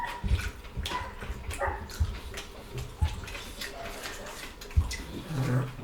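Several neighborhood dogs barking and growling at a distance, with short intermittent barks and a low growl scattered across a noisy outdoor background.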